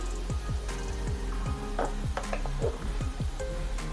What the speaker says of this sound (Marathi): टोमॅटो इथे आपण दोन ते तीन मिनिटासाठी व्यवस्थित कांद्यासोबत परतून घेतलेला आहे